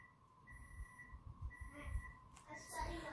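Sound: video game timer beeping

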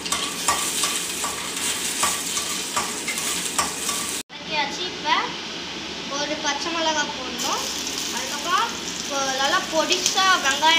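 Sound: mustard, cumin and fennel seeds added to hot oil

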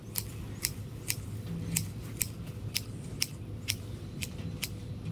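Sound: two-handed hedge shears trimming a topiary shrub

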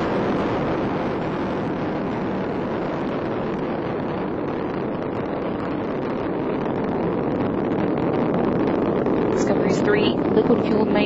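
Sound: space shuttle main engines roaring

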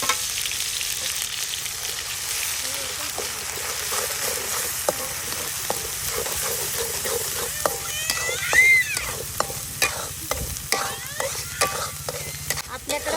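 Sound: ginger garlic coriander paste frying in oil for cuttlefish

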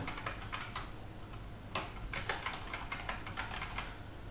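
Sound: typing on a faulty computer keyboard

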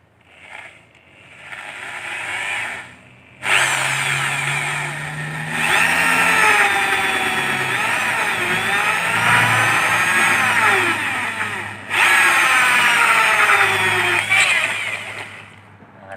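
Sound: power drill drilling a hole in a cap

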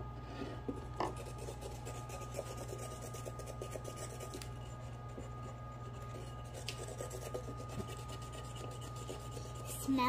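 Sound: scribbling Sharpie marker on a tile coaster

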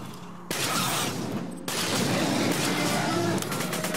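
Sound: gunfire in video game Borderlands 2

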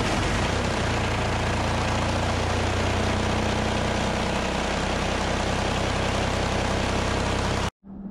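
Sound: Kubota tractor engine running

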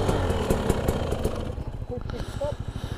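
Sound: Husqvarna TE300i two-stroke dirt bike engine idling

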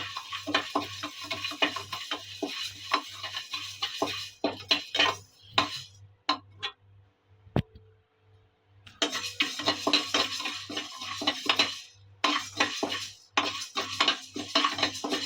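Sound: frying urad dal in a pan

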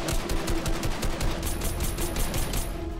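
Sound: gunfire from the Fortnite video game

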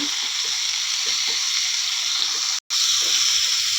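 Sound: cauliflower and potatoes frying in hot oil

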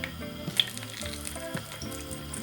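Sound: oil sizzling while frying

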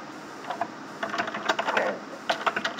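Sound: typing text on a computer keyboard

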